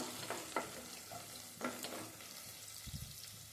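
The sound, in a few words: onions frying in pan for fish head curry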